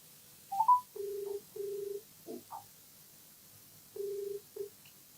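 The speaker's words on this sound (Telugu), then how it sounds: "ఒకసారి రాజేశ్వరి గారు కాల్ చేస్తానండి." A telephone call being placed: a few quick dial tones, then repeated steady ringback beeps in short pairs, clear and alone against a quiet background.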